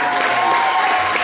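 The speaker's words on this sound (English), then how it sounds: "a few round of applause for Justin" A crowd at a career achievement award ceremony applauds Justin Long, a loud, dense burst of clapping with faint cheering mixed in.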